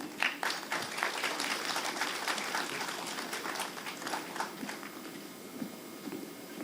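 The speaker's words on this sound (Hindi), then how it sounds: "आपकी जोरदार तालियां" A fairly faint patter of applause from an audience at a book launch during a nautanki festival, with individual claps audible through the run and the clapping thinning toward the end.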